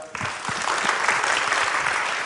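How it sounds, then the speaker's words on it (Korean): A conference audience at a developer talk on working environments breaks into applause, a broad, bright clatter of many hands that swells quickly and holds steady. "큰 박수 보내주시기 바랍니다"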